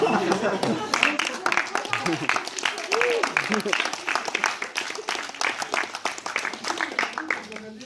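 Audience applause at a conference, a dense sustained patter of many hands clapping for several seconds, with speech heard over and around it.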